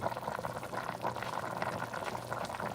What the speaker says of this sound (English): I like to hear that boil, man.